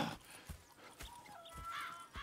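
Horses in the Red Dead Redemption 2 video game clop and shift at a moderate distance, with soft hoof steps and a brief whinny-like tonal call, no talk over them.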